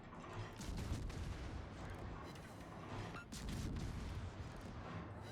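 Rapid, dense video-game gunfire rattles continuously and loudly, with bursts overlapping in a sustained barrage and only a brief dip partway through.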